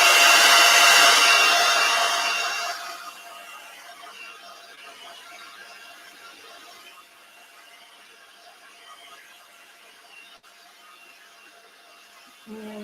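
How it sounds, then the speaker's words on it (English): A hair dryer blows loudly at close range for a few seconds, drying a craft layer, then drops to a lower, steady hum that continues before a brief click near the end. "I'm afraid the dreaded hairdryer is going back on just for a minute now."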